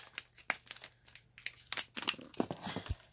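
Crinkly plastic or paper rustles and tears in quick, uneven bursts as a small bag is handled and opened up close.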